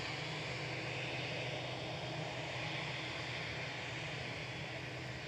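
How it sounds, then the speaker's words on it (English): A Boeing 787-9 jet airliner departing Manchester Airport gives off a faint, steady, distant engine roar, even and unbroken, with no talking. "This is 2EJ departing to Bridgetown with flight 162."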